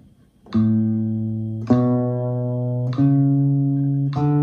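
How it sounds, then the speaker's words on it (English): Four slow, evenly spaced plucked nylon-string guitar notes at 50 BPM, one per beat, ring out one after another, each sustaining until the next, close and clear with no talking. "Metronome at 50 BPM and just play, 1 note per beat."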